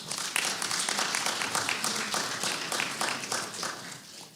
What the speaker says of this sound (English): Let's give our guests a round of applause.